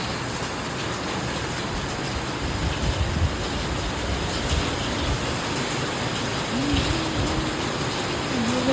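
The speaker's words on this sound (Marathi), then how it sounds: "पुणे की बारिश देखो गाइस." Monsoon rain falls in Pune during the first rain of the season, a dense, steady broadband wash that stays constant and fairly close for the whole stretch, with no talk.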